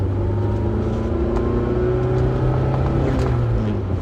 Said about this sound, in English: Show up and rev out. I'm gonna rev like crazy right now.